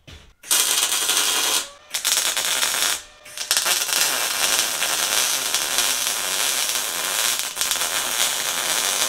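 Steel supports being tack welded on an enclosed trailer roof, a loud continuous crackling hiss that stops twice briefly before running on steadily.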